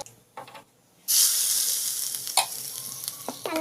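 Mustard seeds, cumin and mint leaves sauté in hot oil for a festive home-cooked dish, a loud steady sizzle bursting in after a quiet second and holding close, with a few sharp pops and stirring clatters near the end.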